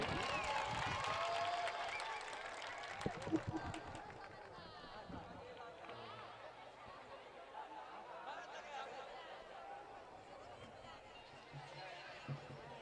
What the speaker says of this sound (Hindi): तालियों से इस्तकबाल कर दीजिए।